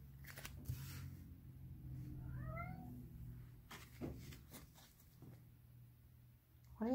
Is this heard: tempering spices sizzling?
no